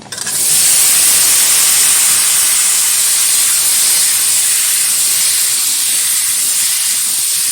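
Washed potato, sweet pumpkin, tomato and greens stalks tipped into hot oil with a fried rohu fish head, setting off a loud, sustained steamy hiss that holds steady throughout, close with no talking.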